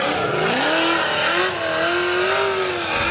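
Formula Drift car on Falcon tires initiating a drift at a 2018 event in St. Louis, a loud high engine rev rising and holding, with tire squeal layered over steady crowd and track noise.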